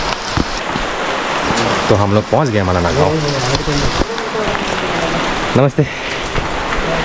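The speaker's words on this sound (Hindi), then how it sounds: "तो looks like it started raining heavily" Heavy rain pours down in Malana, a mountain village in Himachal Pradesh's Parvati Valley, a steady close hiss of falling water continuing beneath people talking and exchanging greetings.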